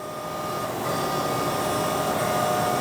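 A CNC mill cuts steel with a helical end mill at about 9,000 RPM and 99 inches per minute, a loud continuous whining grind that builds slightly and holds steady with a faint chattery edge, no talking.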